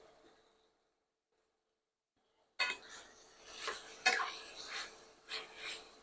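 A spoon stirring food in a pot in a home kitchen, a few clinks and scraping knocks that start abruptly after near silence, close and moderately quiet.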